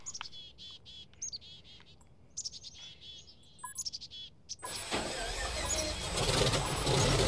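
Bird chirps and tweets outdoors, repeated short bursts during the first five seconds, fairly close and clear, before a louder broad wash of noise takes over.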